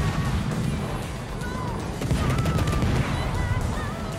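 Naval guns firing at a cruiser in a warship battle game, a dense, rumbling stretch of overlapping booms and crashes that runs the whole time, loud and continuous with a voice partly audible beneath it.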